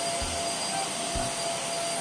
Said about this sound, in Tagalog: Buti na lang may vacuum.